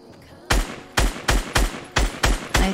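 Gunfire in the video game Fortnite: seven loud, sharp shots in an uneven, rapid series, each a hard broadband crack with a short tail, heard alone without talk.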